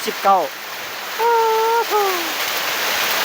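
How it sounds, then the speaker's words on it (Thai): Heavy rain and wind from a storm make a constant broad hiss throughout, while someone speaks over it in short bursts. "ทั้งฝนทั้งลม"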